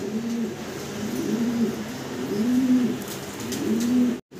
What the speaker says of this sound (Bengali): ভিডিও স্ক্রিনে আমরা সিঙ্গেল এক পিস আপনাদেরকে কবুতর দেখাচ্ছি